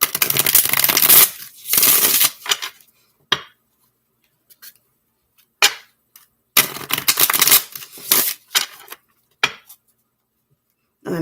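A deck of tarot-style cards is shuffled by hand in a few separate bursts of crisp riffling and flapping, close and clear, with quiet pauses between them and no talk.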